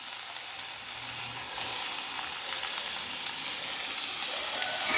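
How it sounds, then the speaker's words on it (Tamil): Onions sauté in hot oil in a pan for a tomato kurma, giving a loud, even, continuous sizzling hiss close up with no one talking. "நம்ம வெங்காயம் போட்டு நல்லா வதங்கணும்"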